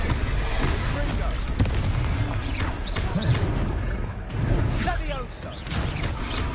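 A Confringo fire spell cast in the Hogwarts video game bursts with booming, explosive blasts amid continuous busy combat noise, while voices are heard throughout.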